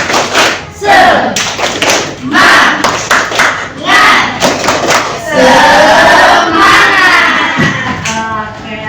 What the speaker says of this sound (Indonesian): Oke, tepuk semangat dulu ya. Tepuk semangat. Semangat.